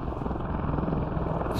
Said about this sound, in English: that's a transport helicopter!